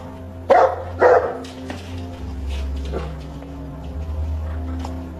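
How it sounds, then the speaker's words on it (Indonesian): A dog barks twice in loud, close bursts near the start of a scene from the 2011 film Always, followed by softer yips over low background music and ambience. "Tiba-tiba Wu Yu kembali menggonggong tak henti."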